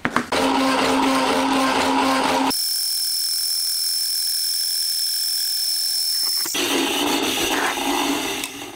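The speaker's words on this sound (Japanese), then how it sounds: "まずはノコバンでフラットバー切ってきますね。" A band saw cuts steel flat bar in a workshop, a steady loud grinding whine that drops to a high humming idle partway through, then resumes cutting near the end.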